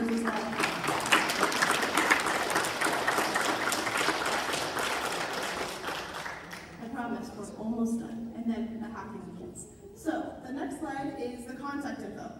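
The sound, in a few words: audience applause for team members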